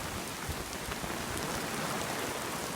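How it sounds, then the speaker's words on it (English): Heavy rain from a severe storm in Miami as a cold front passes, a dense continuous downpour hissing steadily and close throughout, with no voices. "there's a wall of rain coming in right now."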